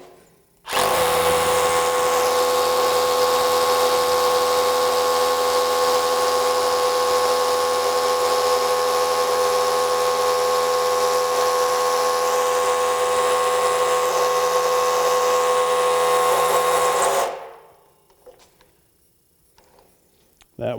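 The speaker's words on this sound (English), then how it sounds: "Let's try the 4 amp hour battery with the 3/8 inch drill bit." A DEWALT Atomic 20V compact brushless SDS Plus rotary hammer bores with a 3/8 inch bit on a 4 amp hour battery, a loud, steady, buzzing hammer-drill whine that runs about sixteen seconds, then cuts out abruptly, leaving near silence.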